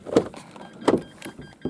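A Renault Espace unlocks with two sharp mechanical clunks from the door locks about 0.7 seconds apart, close and loud, with faint lighter clicks after.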